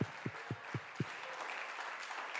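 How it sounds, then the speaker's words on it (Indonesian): A church congregation applauds, opening with a few loud, evenly spaced claps that give way to a sustained wash of clapping from many hands. "Boleh kan tepuk tangan bagi Tuhan Yesus."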